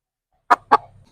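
A black hen gives two quick, sharp clucks close by, followed by a faint low trailing grumble.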